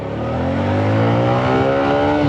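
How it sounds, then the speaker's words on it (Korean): A Citi Best CB115PS underbone motorcycle accelerates on the road, its engine note rising steadily in pitch, loud and close throughout with no talking. "자, 가속 한번 해보도록 하겠습니다"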